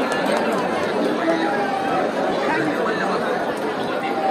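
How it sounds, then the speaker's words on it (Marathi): Dense crowd chatter at the busy Jejuri temple festival, a continuous close murmur of many overlapping voices with no pauses. "जाम गर्दी आहे सध्या."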